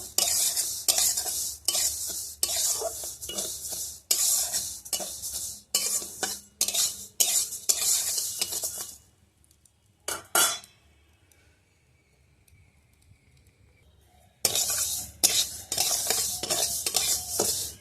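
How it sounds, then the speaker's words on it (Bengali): Mung dal dry-roasting in a wok, stirred with a metal spoon in steady rhythmic scrapes and rattles, pausing briefly midway before the quick stirring picks up again. "আগে প্রথমে আমি মুগের ডালটাকে কড়াতে একটু হালকা লাল করে ভেজে নেব।"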